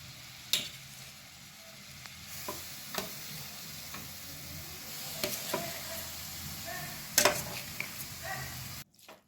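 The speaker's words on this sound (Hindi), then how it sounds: "अब इसमें ये ग्रेटेड कद्दू डाल दें और इसको लो फ्लेम पर सेकेंगे।" Grated pumpkin roasting in ghee over a low flame, a soft, quiet sizzle broken by scattered spoon scrapes and taps as it is stirred, ending in a brief pause.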